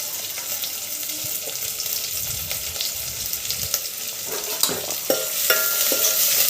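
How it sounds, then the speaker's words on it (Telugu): Chopped onions and curry leaves deep frying in hot oil for a cauliflower tomato curry, a steady close sizzle with stirring scrapes and a few sharper clatters toward the end. "కట్ చేసుకున్న ఉల్లిపాయ ముక్కలు వేసిన తర్వాత బాగా ఆయిల్లో డీప్ ఫ్రై అయ్యేంత వరకు వేడి చేస్తున్నాను"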